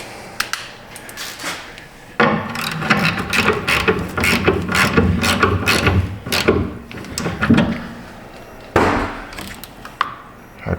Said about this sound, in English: The cool thing about these RBRT sockets is they can be used in both directions.